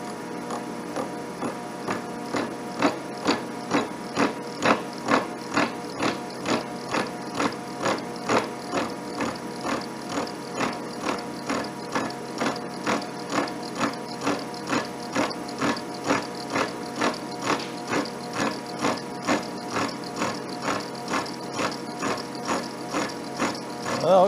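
A horizontal milling cutter is being sharpened dry in a fixture, giving a steady, rapid rhythmic grinding chatter with regular pulses that continues evenly throughout at close range, with no talk.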